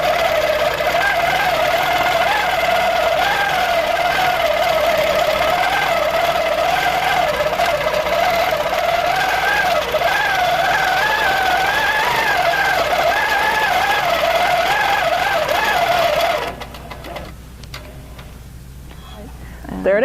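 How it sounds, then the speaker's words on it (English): An Amara 20 longarm quilting machine stitches a stipple pattern with a steady, wavering motor whine and rapid needle rattle, close and continuous for most of the stretch before cutting out to quieter handling noise. "There it is, stippling on the Amara 20."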